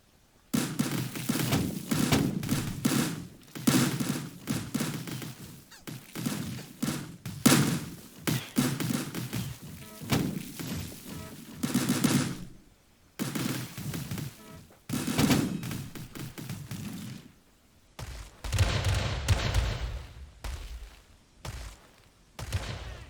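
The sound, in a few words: artillery firing in the video game War Selection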